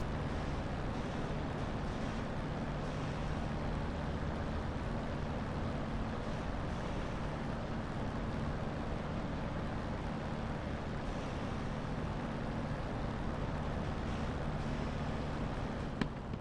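A flight-simulator aircraft engine holding steady at about 1500 RPM taxi revs, a continuous even drone with no change in pitch or level for the whole stretch and no talking over it.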